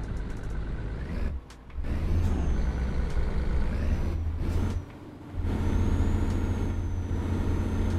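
Air brakes on a truck in Euro Truck Simulator 2, driven with a Logitech G25 wheel, hiss in two sharp bursts over a steady, loud diesel engine drone, with no talking.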